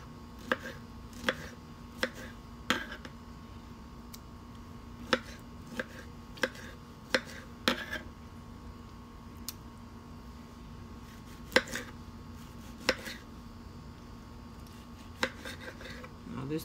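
A knife chops food on a cutting board while guacamole is being made, sharp irregular thuds spaced a second or so apart over a low steady room hum, with no talking.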